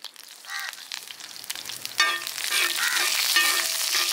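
Mustard seeds and cumin fry in hot coconut oil, giving a bright crackling sizzle with scattered popping seeds that grows busier and steadier toward the end.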